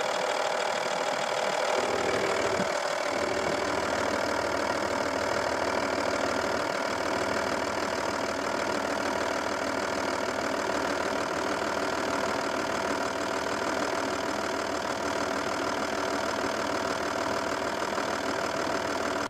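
Audi A6 C5 with a 2.5 TDI V6 diesel engine starting and then idling steadily, a close, continuous rumble with a faint diesel knock running throughout.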